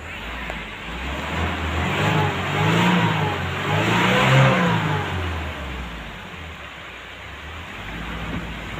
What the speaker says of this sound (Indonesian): sekarang kami siap untuk menyeberang dengan kendaraan yang kami tumpangi